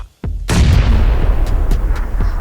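A grenade goes off in the PUBG battle game: a small pop, then a loud, close, deep boom that rumbles on, with further distant gunshots cracking in the background.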